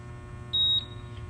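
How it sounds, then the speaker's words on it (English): Hand-spin tire balancer gives a single clear electronic beep over a low steady hum, close and brief. "Beeped once, I let go of it."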